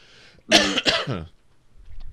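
A man gives a single close, rough cough that runs straight into a throaty clearing, a short harsh burst followed by quiet.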